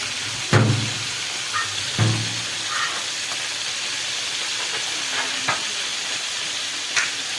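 Onions fry in a pan with curry powder and turmeric, giving a steady close sizzling hiss throughout, broken by a few light clinks of a spoon stirring.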